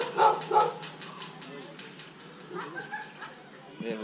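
Dogs in a garden barking and yipping at a distance, a couple of sharper barks early on followed by fainter scattered yelps, with a quiet outdoor background and some faint talking.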